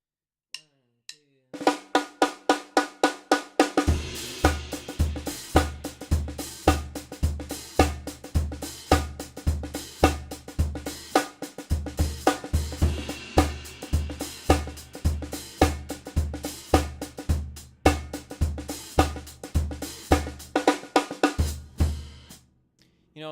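An old school funk drum groove, with open hi-hat accents over a steady, driving kick and snare pattern, played live and close for about twenty seconds with no talking.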